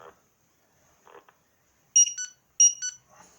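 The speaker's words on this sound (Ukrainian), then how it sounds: "Репітер пробікав мелодію." A GPS beacon repeater for finding lost drones beeps a short electronic melody during a self-test, two quick bursts of high, bright tones after faint clicks of key presses, loud and close with no talk.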